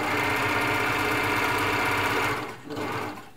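An Elna Air Electronic TSP sewing machine runs a zigzag stitch, a close, loud, steady mechanical whir that stops abruptly, then gives a short second burst before going quiet.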